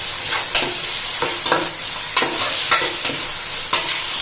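Green chillies fry in a pan while a fish curry is being prepared, a steady close sizzle with repeated scraping strokes of a spoon stirring every half second or so, with no talking.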